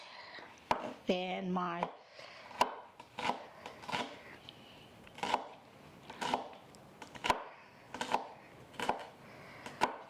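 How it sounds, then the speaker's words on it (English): A knife chops a shallot for garnish on a cutting board, making sharp, evenly spaced thuds about once a second, close and clear, with a brief spoken phrase near the start. "I'm going to go ahead and cut this other onion for our garnish"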